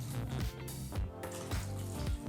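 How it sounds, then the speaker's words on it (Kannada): Water is poured from a cup into a pot of rasam made with curry leaves and tamarind water, a steady splashing stream in a few pulses, close and fairly loud with no talking. "ಮತ್ತೆ 2 ಕಪ್ಪಷ್ಟು ನೀರನ್ನು ಹಾಕೋಬೇಕಾಗತ್ತೆ."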